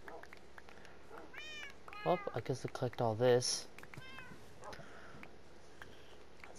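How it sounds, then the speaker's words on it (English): Cats in the Minecraft video game meow several times in quick succession, clear high-pitched calls over a quiet background while someone talks briefly before and after. "Oh, these cats keep meowing."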